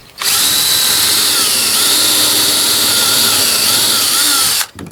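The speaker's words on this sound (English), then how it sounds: "you would drill a pilot hole." A power drill boring a pilot hole in hardwood for a wood screw runs loud and steady at close range for nearly five seconds, starting abruptly and cutting off at the end.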